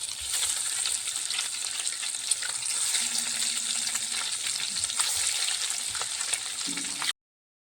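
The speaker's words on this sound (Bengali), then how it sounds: "এখন আমি ডিমগুলো ভেজে নিচ্ছি, এক এক করে ডিমগুলো ভেজে নিচ্ছি আমি।" Eggs frying one by one in mustard oil in a wok, a steady close sizzle and crackle running without a break, with small pops and a faint low hum partway through.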